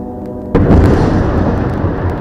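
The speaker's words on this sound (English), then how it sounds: "Now the gunshots are getting closer," A wartime explosion in Gaza hits with a sudden loud burst, then gives way to a heavy, sustained roar of rumbling noise, with no voices.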